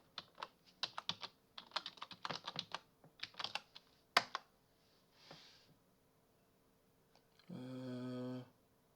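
A password is typed on a computer keyboard, close and fairly quiet, a rapid uneven run of key clicks with short pauses and one sharper tap. A brief steady buzzing tone follows near the end.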